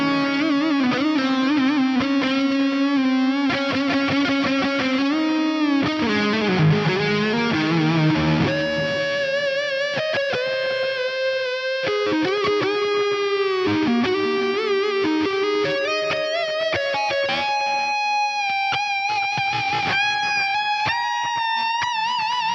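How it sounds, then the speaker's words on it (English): A distorted electric guitar runs through a Fractal FM3's stereo BBD delay set to quarter and dotted-eighth repeats. Sustained lead lines and chords smear into a dense, shimmering wash of echoes that fills the whole passage. "so we get that nice quarter note and dotted eighth note stereo delay thing"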